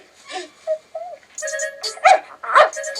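A small puppy-like creature from the horror film House 2 yaps and squeals in a quick run of short, high, strained cries that grow louder toward the end.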